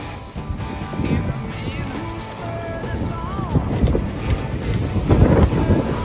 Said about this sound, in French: Le vent commence à monter grave.